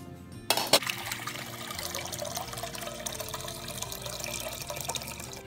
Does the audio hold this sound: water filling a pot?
yes